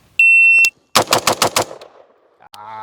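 A shooting timer gives one sharp electronic beep, then an AR-15 rifle with a Holosun red dot fires a fast string of about six loud, close shots, each ringing out before fading.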